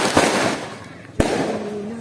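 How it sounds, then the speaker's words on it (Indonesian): Fireworks burst nearby during a Pitu Likokh night festival on the 27th night of Ramadan in Sekala Brak, with sharp loud cracks and a sizzling crackle under the hubbub of a lively crowd. "Ini pesta kembang api."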